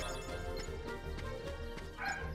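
A dog in the room barks in several quick, fairly faint yips and woofs, mixed with background game sounds and music.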